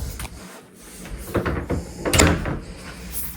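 A hotel room door at a DoubleTree by Hilton in Times Square swings shut with a few creaks and knocks, ending in a firm close nearby, with no voices.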